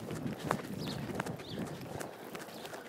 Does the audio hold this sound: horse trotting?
yes